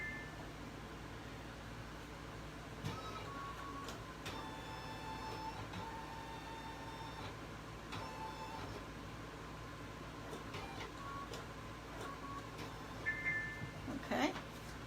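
An embroidery machine's camera scans the hooped fabric, giving a steady mechanical whir with faint electronic tones and a few soft clicks, and a short burst of activity near the end.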